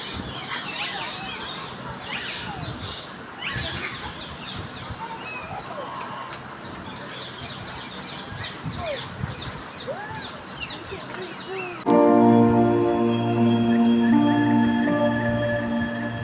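Chickens, geese and other birds call and cluck in a bird enclosure at 58 Gate, Garchumuk, Uluberia, a busy overlapping chorus of squawks and clucks that swells louder toward the end.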